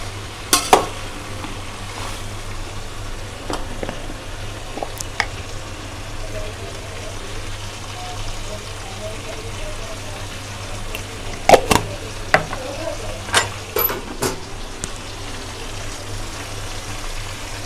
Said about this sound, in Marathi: हे बघा, चांगलं परतून घ्यायचं